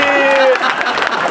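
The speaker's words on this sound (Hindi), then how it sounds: "तालियां थोड़ी सी बढ़ा दीजिए" An audience at a poetry recital honoring fallen soldiers claps in a short, dense burst, heard under a fading sustained tone at the start.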